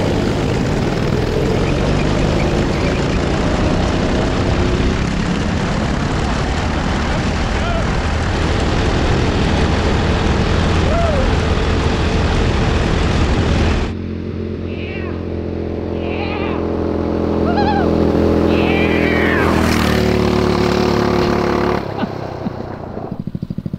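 Small engine on a cheap old go kart running rough and leaking fuel from the carburetor, a loud steady buzzing drone that cuts out abruptly partway through, followed by quieter sounds and a revving burst near the end.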